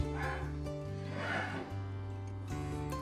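Dog barking in a home kitchen, a few scattered yips and barks sitting faintly under continuous background music.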